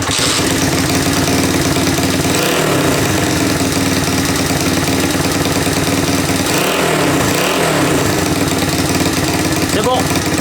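A dirt bike engine fitted with a new Racing Power ignition starts and runs, holding a loud steady idle with a few brief revs. Someone speaks over it.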